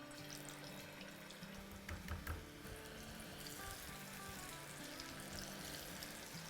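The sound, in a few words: chicken pieces added to hot oil in a wok, frying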